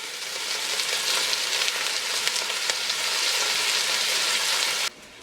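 Bacon sizzles steadily as its fat renders in a pot for a lamb stew, a dense, loud crackle with no talking, cutting off abruptly near the end.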